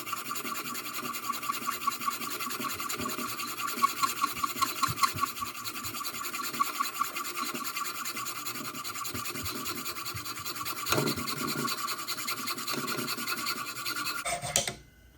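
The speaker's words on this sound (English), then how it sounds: "we're gonna do the right thing and just use a hacksaw." Hacksaw cutting through a metal bolt on a motorcycle restoration, rapid rasping strokes scraping back and forth in a steady rhythm that continues until it stops abruptly near the end.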